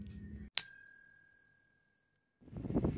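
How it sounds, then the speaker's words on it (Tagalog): A single bright, ringing bell ding used as a notification effect, struck sharply and left to decay cleanly into silence, between short stretches of low background sound. "hit the notification bell"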